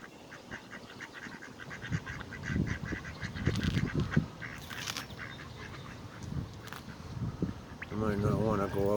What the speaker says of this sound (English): I might not want to go out with all the ducks right now.